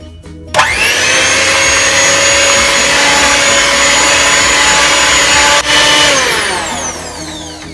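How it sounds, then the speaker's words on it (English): An electric hand mixer beats chocolate cake batter, a loud steady whirring motor hum with a bowl-scraping rasp that holds for several seconds, then winds down as it is switched off. "Let's use our hand mixer."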